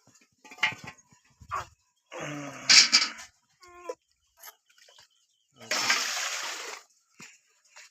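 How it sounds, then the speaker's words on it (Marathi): Water drawn and splashed from a bucket for a bath at a village home: a few separate bursts of splashing and pouring, the longest near the end, with quiet gaps and brief voices between them. "पाणी काढून देत आहे मला आंघोळीला"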